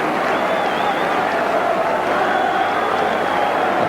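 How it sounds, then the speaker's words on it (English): A football crowd at Southampton vs Man Utd keeps up a steady, dense roar of cheering and applause. It sounds continuous and fairly loud, as if heard from within the stadium, with a faint commentator-like tone over it. "the crowd have enjoyed the first period, which they've greeted noisily all through"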